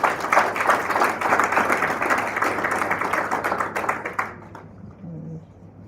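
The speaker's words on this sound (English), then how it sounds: "Can you please give a round of applause for Mr. Dladla?" Applause at a student leadership symposium on energy and ethics, a round of clapping welcoming a speaker, dense and steady, fading out near the end as a low hum and a brief voice remain.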